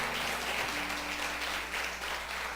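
Church congregation applauding during a Portuguese-language sermon, a steady wash of hands clapping together that holds evenly for the full stretch, with a low hum underneath and no clear talking.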